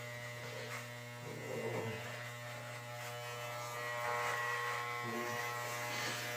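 Electric hair clippers hum steadily through a home DIY haircut, a close, continuous buzz with slight shifts in pitch as they move over the hair, and a few muffled voices underneath.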